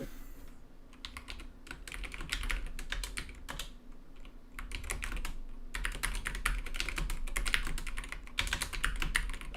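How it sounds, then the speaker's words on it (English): Rapid computer keyboard typing in bursts with short pauses, clicking steadily at close range during an EU4 multiplayer session, with a low background hum and no talk. "He's typing."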